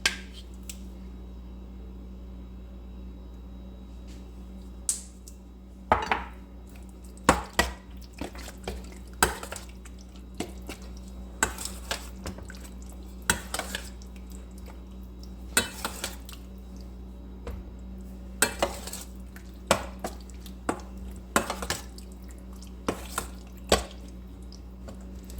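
While masala chicken is being prepared, a quiet kitchen is filled with running and dripping water, punctuated by scattered clinks and knocks of dishes and utensils being washed.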